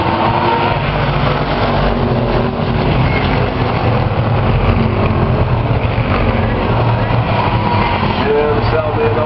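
Street stock race cars roar around Flat Rock Speedway in a 30-lap B-main, a loud, dense, continuous engine drone that stays level throughout while an announcer calls the race over it.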